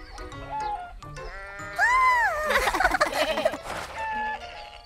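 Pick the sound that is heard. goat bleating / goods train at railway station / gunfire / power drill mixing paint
goat bleating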